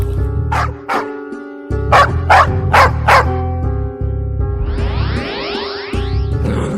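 A dog barks loudly and close, about five sharp barks in a quick series, then gives rising whimpering yelps over a steady musical backing.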